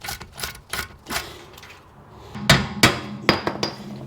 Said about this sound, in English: With the tie rod out of the way, we can simply loosen that 19mm nut.